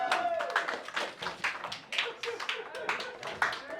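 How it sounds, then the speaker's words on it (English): Small street audience at a mentalist's magic performance clapping, sparse individual handclaps close by with uneven rhythm, mixed with voices and cheering. "Round of applause."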